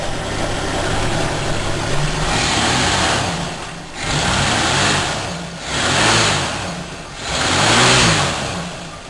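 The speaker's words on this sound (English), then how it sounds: "Here you can see that the engine's running pretty strong." A 1966 Ford Mustang engine runs close by, idling and then revving in three rising and falling surges with a steady throb underneath.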